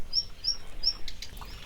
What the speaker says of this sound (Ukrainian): Вон як гарно співає якась пташка.